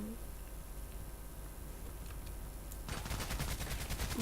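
Pistol fire in a shooting video game: quiet game ambience at first, then a rapid run of sharp, loud shots that keeps going to the end.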